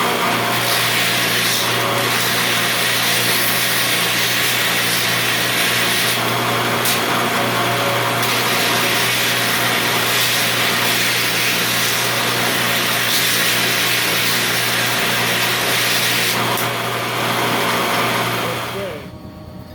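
Power grinder radiusing the corners of steel weld bend-test specimens, a loud steady whine running continuously for about twenty seconds before winding down at the end.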